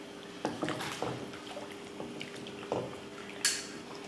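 Pounded rasam masala goes into a pot of crab rasam with a few sharp metallic clinks and scrapes of a spoon against the vessel, close and fairly quiet, over a soft liquid background.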